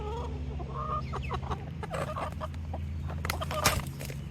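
Chickens in a chicken run, clucking steadily close by as they wait to be fed, with overlapping calls and a low background hum and no talking.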